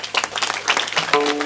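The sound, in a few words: audience applause at a kirtan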